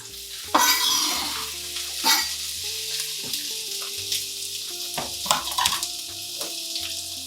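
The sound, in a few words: meat cooking in pan with red wine vinegar, chili, garlic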